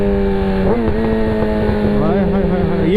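Yamaha R6 600cc sport bike without auto-blip, loud onboard engine drone that stumbles and changes pitch at manual downshifts, with a dip near the start and another shift near two seconds, under heavy wind rush.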